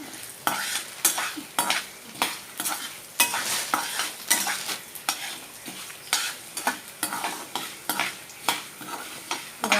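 Coriander seeds dry roasting in a pan for a Tamil dhaniya thuvayal, stirred steadily so the dry seeds rattle and scrape in repeated rhythmic strokes, close and clear with no talking.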